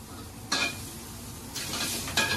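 Pork slices with scallions dropping into a hot wok and being stir-fried: soft, close sizzling with three brief, brighter bursts of hiss and scraping as the meat is tossed, fairly quiet overall.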